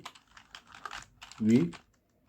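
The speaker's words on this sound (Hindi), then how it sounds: "देखिए अब कीबोर्ड से लिखेंगे" A few light keystrokes tap on a computer keyboard in short, uneven bursts, mixed with a voice speaking over them.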